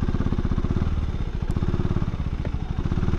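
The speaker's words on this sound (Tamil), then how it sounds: "I love this exhaust note." A 2024 KTM Duke 390 single-cylinder exhaust thumps in a loud, rapid, even pulse at low revs, close by and alone.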